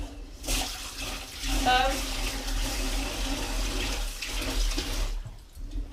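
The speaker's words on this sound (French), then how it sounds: "Je rince bien mon riz, donc là, cette eau de lavage, je la mets bien dans mon évier" Rinse water from washed rice pours into a kitchen sink, a steady splashing run of about five seconds that stops abruptly, with a brief spoken word partway through.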